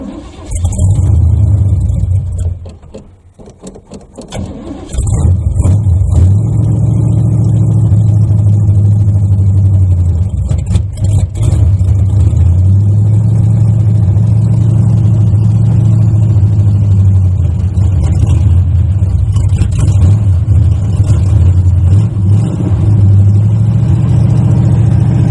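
A 1980 Chevy Malibu Landau engine with no choke cold-starts after a brief cranking stumble, then roars loud and close into a rough, lumpy idle with repeated revs rising and falling.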